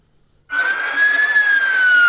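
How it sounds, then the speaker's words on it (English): An emergency vehicle siren in Milwaukee abruptly starts wailing after a moment of near silence, a steady high tone that slowly rises and falls, loud and close. "With sirens blaring and emergency lights flashing, this was Milwaukee's direct response"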